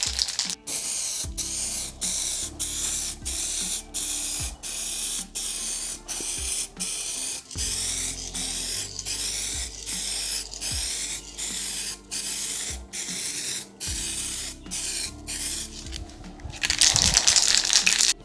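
Rattle can spray paint going on as a thicker second coat, loud hissing bursts repeated in a steady rhythm of short sprays with brief gaps, close up, ending in a longer continuous blast, no talking.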